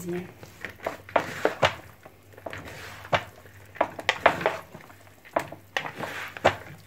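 Chermoula spice mixture is stirred for fish pastilla, with scraping and clinking of a utensil against a bowl in irregular bursts while someone talks.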